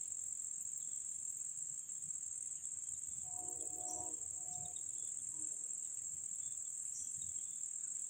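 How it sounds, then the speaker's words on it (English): Steady high-pitched crickets chirping outdoors on a farm, continuous and faint, with a brief low murmur partway through. "Well, it's the crickets."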